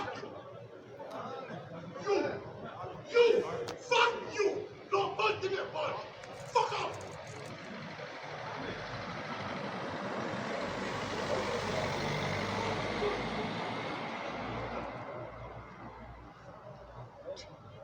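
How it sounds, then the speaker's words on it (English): A Garda police car pulls up outside a hotel in Wicklow Town, a broad steady engine and tyre rumble swelling in and holding for several seconds, after a burst of chatter and laughter from people nearby. "This is the Garda car pulling up outside the hotel"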